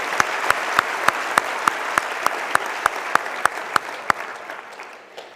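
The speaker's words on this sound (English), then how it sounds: "So please do give a round of applause to our Wits choir." An audience at a Wits University graduation ceremony applauds the university choir with a sustained wash of clapping, sharp regular claps standing out on a steady beat, tapering off toward the end.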